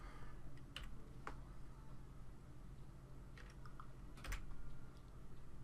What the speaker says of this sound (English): For right now, we're just going to type.